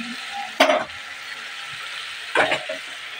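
Fish goes into a pan of frying potatoes and is stirred, giving a steady sizzle with two louder bursts of scraping and clatter from the stirring.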